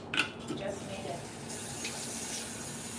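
Water runs from a household tap to make soapy water for dishes, a steady hiss-like flow that starts after a brief clatter near the beginning and continues evenly, with a low background hum.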